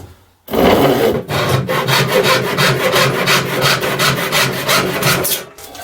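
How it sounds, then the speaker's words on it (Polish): A dull Western-style handsaw cuts through wood in rapid, regular back-and-forth strokes, loud and close, without any voices. "Teraz będę piłował piłą e, zachodnią, typu zachodniego"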